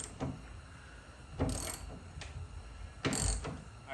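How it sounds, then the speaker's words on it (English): A T50 socket wrench ratchets against a bolt during a bed extender install on a 2022 Ford Maverick, giving two short bursts of rapid clicking about a second and a half apart, close up and fairly quiet. "Alright, so we found a T50 socket wrench. You're gonna have to remove that,"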